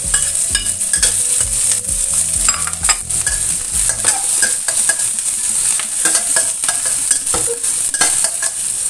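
Garlic and green chili sizzle in a pan with little oil, up close, with frequent stirring and scraping that ease into a continuous hiss.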